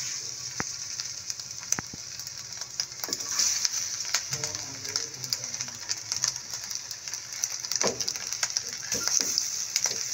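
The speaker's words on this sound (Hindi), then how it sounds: "बिल्कुल कम ऑयल में ये फ्राई होंगे।" Chicken pieces frying in a hot pan greased with very little oil, a crackling sizzle full of scattered sharp pops and spits, steady and close throughout.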